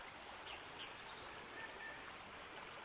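Clear water flowing steadily in a shallow stream, a soft continuous rush and trickle with a faint bird chirp now and then.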